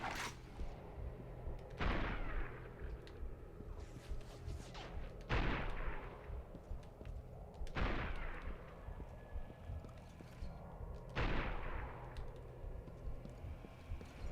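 Heavy, booming gunshots in the Resistance: Fall of Man shooter, four or five spaced blasts each trailing off into a rumbling echo over a quiet ambient bed.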